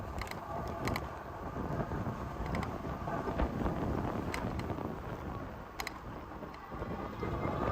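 Steady wind buffeting the microphone during an e-bike ride through downtown Columbus, Georgia, along the riverwalk, a loud continuous rumble that persists throughout with brief higher-pitched flutters.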